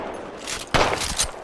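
Gunfire in Apex Legends, a few sharp, loud shots cracking in a short burst over background game noise.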